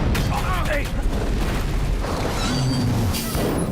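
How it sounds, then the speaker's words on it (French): A film explosion rumbles with a deep, loud, sustained boom that fills the clip, with faint voices partly buried beneath the roar. "Une explosion."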